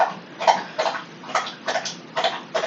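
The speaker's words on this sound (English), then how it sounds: "Do you hear him slurping water?" A service dog with canine lymphoma laps water from a bowl in a steady run of close, wet slurps, about seven rhythmic bursts with no one talking.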